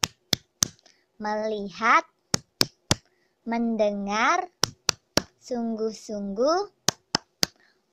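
Classroom tepuk fokus rhythm: sharp, close claps in short patterned bursts alternate with children chanting words in unison, the claps ringing out alone between the chanted phrases.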